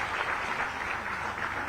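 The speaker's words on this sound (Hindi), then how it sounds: "तालियां जरूर होनी चाहिए आपकी" A crowd at a government ceremony in Jharkhand, where appointment letters are handed to new teachers, applauds in a steady wash of continuous clapping, even in level and without distinct individual claps, lasting the whole moment.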